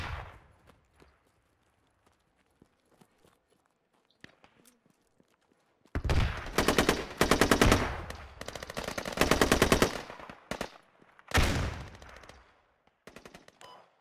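Quiet stretch, then loud bursts of rapid automatic AK rifle fire in the video game Squad, in several long strings, close and sharp, with scattered single shots between.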